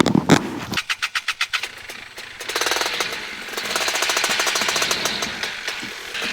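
A light aircraft engine cranks with a few rhythmic chugs, catches, and settles into a loud, rough, steady running drone, heard close by with no talking.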